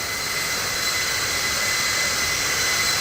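Steady, loud roar of Air France A318 jet engines at takeoff in the Infinite Flight simulator, a broad continuous whine and rumble holding level throughout with no talk.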